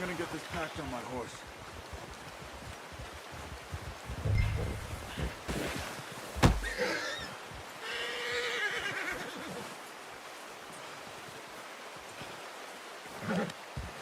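A horse whinnies in a video game, Red Dead Redemption 2, then hooves clop amid soft rustling and a faint watery background; the sounds are fairly quiet and spread out.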